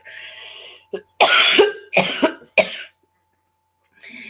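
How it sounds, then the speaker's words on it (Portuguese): Several harsh, loud coughs in quick succession, a short burst then a few more hacks, with brief silence afterward and a faint voice at the edges. "eu estou com um pouquinho de tosse"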